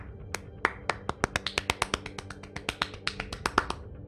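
A single person claps sarcastically, slow and uneven, about two dozen sharp close claps over four seconds, alone with no voices.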